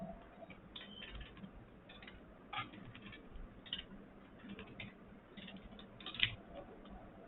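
Faint, irregular clicks of typing on a computer keyboard at a Python interpreter, soft taps scattered through a quiet room with a few slightly louder keystrokes.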